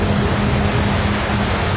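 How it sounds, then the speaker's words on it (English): Floodwater gushing and roaring through a flooded coal mine ventilation tunnel after a door bursts open under pressure, a loud, dense, unbroken rushing wash that fills the short clip with no let-up. "The water's gushing, it's roaring, it sounded like Niagara Falls."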